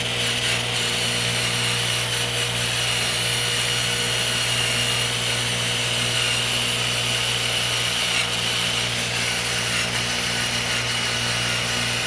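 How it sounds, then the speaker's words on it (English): A wire wheel grinding rust off a brake drum on a 1980 Dodge Aspen, a continuous high whirring scrape held steady and close for the whole stretch. "And this is all we did, which is a simple wire wheel."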